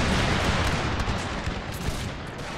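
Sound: musket volley gunfire in Total War video game

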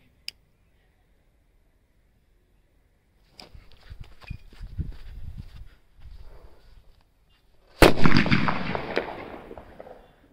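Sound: firecracker bomb exploding

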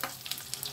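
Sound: fried potatoes sizzling in pan with potol and paneer

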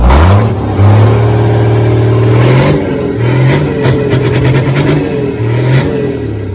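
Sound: used truck engine (6 E 195) running

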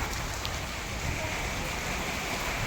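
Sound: heavy rain falling

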